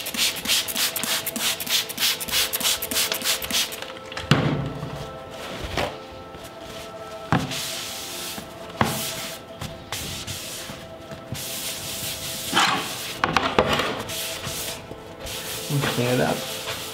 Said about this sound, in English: All that stuff gets polished out when you sand